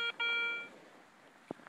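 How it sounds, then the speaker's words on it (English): A metal detector sounds a sharp electronic tone over a coin-like target in an old cabin's former front yard, two quick beeps followed by a held tone, then faint rustling outdoors. "it's ringing up something similar to a coin"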